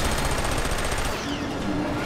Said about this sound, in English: It's starting to shoot rockets and stuff at me now.